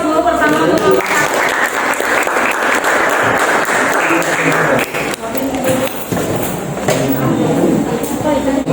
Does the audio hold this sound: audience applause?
yes